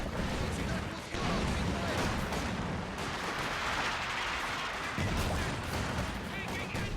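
Walking Stuka dive-bomber barrage with heavy mortar fire in Company of Heroes 2, a continuous rumble of overlapping explosions and crackling blasts, dense and loud throughout, with voices murmuring underneath.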